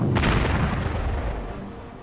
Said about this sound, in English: let's hit them with some artillery